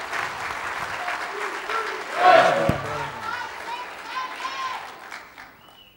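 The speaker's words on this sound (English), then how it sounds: "Would you give him a hand clap today as he comes forward to minister?" A church congregation at a Sunday service applauds a guest speaker, a dense wash of clapping from many hands that peaks midway and fades away, with voices and cheers mixed in.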